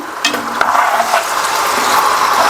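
Country chicken with salt sautéing in a pan for Pallipalayam chicken fry, a steady close sizzle with scraping stirs and a few light clicks, no speech.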